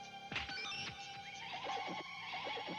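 A horse neighs in an anime episode of Voltes V, a faint, quavering whinny with several pitch-wavering calls across a few seconds, with some background sound underneath.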